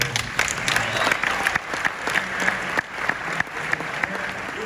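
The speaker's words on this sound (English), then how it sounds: "let's give you guys a round of applause" Round of applause from the audience at a WealthCon investor conference session, dense steady clapping that holds throughout with a murmur of crowd voices and brief talk mixed in.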